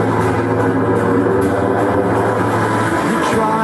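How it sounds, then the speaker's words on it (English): A scraping glider effect made by dragging a pick along electric guitar strings forms a dense, rushing roar like a passing aircraft, steady and loud, then swirls and shifts near the end. "I've got this sort of glider effect."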